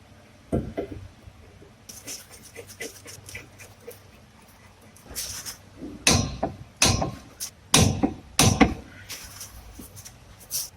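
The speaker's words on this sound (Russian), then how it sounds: "Болты зажимаем усилием 115 ньютонов на метр." Torque wrench and hand tools tightening the brake caliper bracket bolts on a Ford Transit to 115 Nm, heard as a series of sharp metallic clicks and knocks, scattered at first, then clustering into loud bursts toward the end, with no talk.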